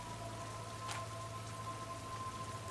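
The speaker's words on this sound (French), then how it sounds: "Tu entends la pluie." Rain falls as a steady soft hiss in a tabletop role-playing game's ambience track, faint and continuous with a low hum beneath and a brief brighter splash partway through.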